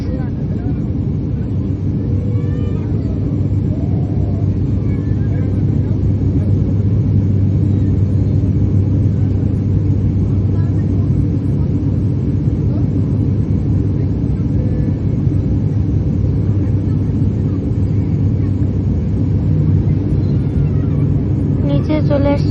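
Steady loud jet cabin roar of an airliner descending toward landing over Dhaka, a continuous low rumble filling the whole stretch with no distinct events.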